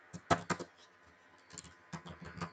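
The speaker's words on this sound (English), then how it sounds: "So again I am typing" Soft clicks of a computer keyboard while C code is typed in a programming tutorial: a quick cluster of keystrokes, a pause, then another short run, faint and close with no talking.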